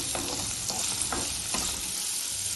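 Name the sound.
beetroot frying with onion in pan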